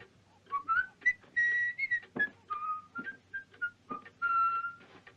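Someone whistles a short, wandering melody of sliding notes, close and clear, with faint background noise between phrases.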